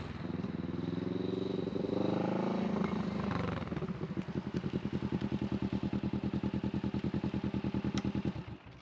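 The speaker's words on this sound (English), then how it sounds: "let's jump on the bike" A motorcycle runs close by, its engine revving up to a loud roar before settling into a steady, rapid low throb that continues throughout, with no talking.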